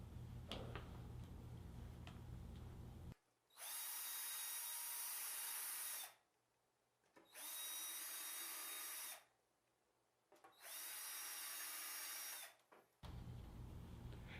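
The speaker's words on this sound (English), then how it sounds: "Now use your Vicks bit to pre-drill your screw holes." A power drill with a Vix bit pre-drills screw holes for Blum Tandem drawer slides in a wooden cabinet side, running in three steady high whining bursts of about two to three seconds each, separated by quiet pauses.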